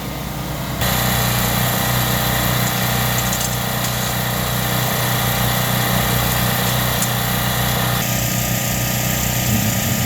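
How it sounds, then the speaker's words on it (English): A generator's small engine drones steadily and loudly throughout at the Willow Springs racetrack, with a constant mechanical hum and no talking. "I'm sure this guy really loves that generator."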